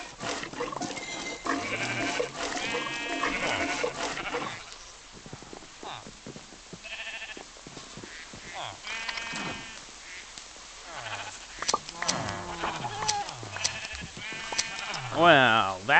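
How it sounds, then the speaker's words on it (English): Sheep in the Minecraft video game bleat repeatedly while a person talks throughout, the bleats popping up between and under the speech at moderate volume. "And we also need to milk our sheep."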